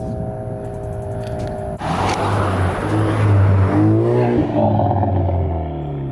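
Loud Cadillac ATS 2.0 turbo with straight pipe exhaust drives off, a sharp burst after a quiet idle giving way to a rising, raspy engine roar that climbs and fades slightly at the end.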